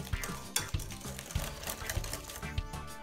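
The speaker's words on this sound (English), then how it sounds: "Gamit ang hand whisk, mix the butter well until you get smooth and lump-free mixture." A hand whisk mixes butter into a batter in a bowl, giving quick rhythmic scraping and tapping strokes, close and fairly loud, in a steady repeating pattern.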